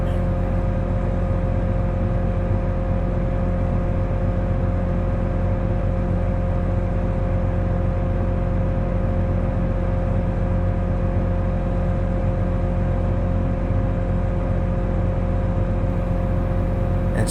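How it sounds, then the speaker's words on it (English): A farm tractor engine runs steadily for the whole stretch, a constant mid-pitched drone and rumble with no clear revving or pauses, close by and with no talk over it. "Look at Danny back there getting in the tractor, running from the work."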